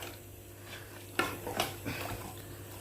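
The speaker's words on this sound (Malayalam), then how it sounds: "ഒരു കൈമ ഫോണും ഒരു കൈ കൊണ്ട് ഇളക്കി വെക്കുകയാണ്." Food being stirred in a cooking pot on a home stove, with a few scraping clinks of a spoon against the pot and soft rustling over a low background hum, quiet and close, with no voices.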